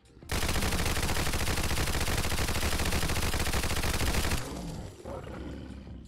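A silenced .22 SMG fires at a Deathclaw in the Fallout 4 video game as one unbroken, rapid stream of loud, dense shots for about four seconds. The firing then cuts off and a lower rumbling tail follows.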